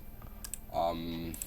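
Typing on a computer keyboard: a few sharp, scattered key clicks at moderate volume, with a brief voice-like tone in the middle of the clip.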